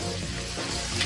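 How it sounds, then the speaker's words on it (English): Steady close-up sizzling and crackling of onion frying in a hot pan with diced bacon and chorizo, continuous throughout. "frying up finely diced bacon"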